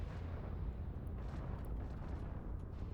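Weapon volleys striking enemy ships in the space game EVE Online, heard as dense, rumbling bursts and booms layered over a continuous low drone, fairly quiet overall, with no speech.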